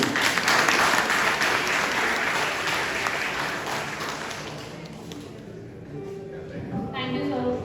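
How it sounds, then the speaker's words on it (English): Audience applause at a college orientation day fills the hall, loud and steady at first, then gradually thinning as the clapping dies down, with a little murmuring in the room. "A clap for sir, please."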